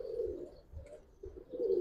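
Pigeons in a pair offered for sale coo in low, repeated rolling calls, fairly close and steady throughout, with no voices present.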